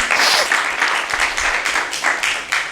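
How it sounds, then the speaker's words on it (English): Audience applause at a Seattle immigration policy event, a steady burst of many hands clapping together, loud and close throughout. "Please give them a round of applause."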